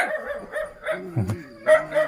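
A village dog in a Bru community in Khammouane, Laos, gives a few brief barks and yips close by, with short gaps between the calls.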